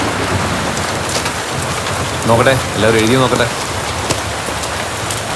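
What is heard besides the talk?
rain starting to fall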